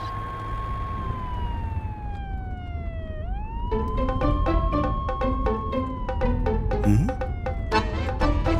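A loud siren wails in long, sliding rising and falling tones, close and continuous, with thumps and clattering underneath.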